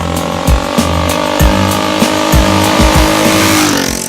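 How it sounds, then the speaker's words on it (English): A Kawasaki KZ250 motorcycle engine drones steadily while riding, with a series of shifts through the gears, each marked by a brief dip and rise in pitch, loud and close. "I just worked my way through all the gears on my bike until the engine was nice and warm"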